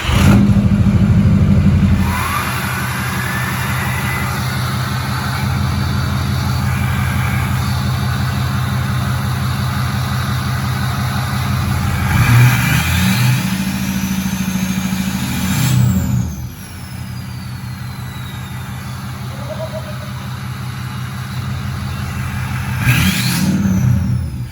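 A 6.0 Powerstroke diesel truck fitted with an MBRP 5-inch straight pipe revs hard, with deep loud bursts at the start, around the middle and at the end, falling back to a rumbling idle in between.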